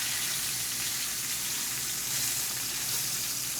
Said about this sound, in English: get that sear